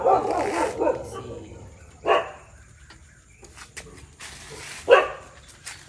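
A dog barks in a few sharp, separate bursts spaced a couple of seconds apart, fairly close, against a quiet background.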